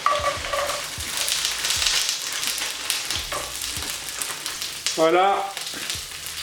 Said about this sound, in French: Je vais laisser revenir mijoter un peu les oignons